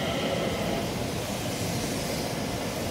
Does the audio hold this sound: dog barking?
no